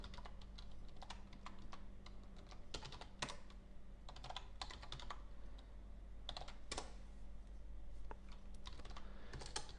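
Keystrokes on a computer keyboard while logging into an administrative account, a steady run of close, crisp clicks in irregular bursts over a constant low electrical hum.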